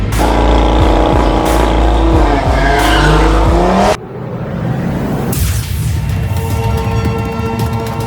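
A race car at the Killarney circuit screams past at high revs with tires squealing as it skids, loud and close, then drops away abruptly as the engine note fades into a quieter, more distant whine.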